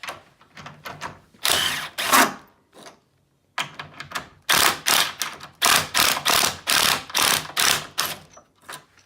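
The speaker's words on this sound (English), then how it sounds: "So you're going to get them out with the impact wrench." Impact wrench pulling leg bolts out of a game machine: loud bursts of rattling hammering, first short and separated by a brief pause, then a longer string of rapid, regular bursts close by.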